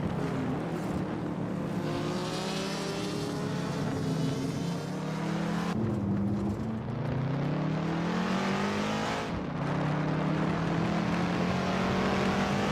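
A 2000 Williams FW22 Formula One car in a racing game, its high-pitched engine whining steadily and loudly, rising and falling through gear changes with no talk over it.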